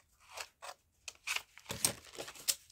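Fancy scissors snipping through paper and envelope for a collage, a series of short, close, crisp cuts in an uneven rhythm, fairly quiet with no talk.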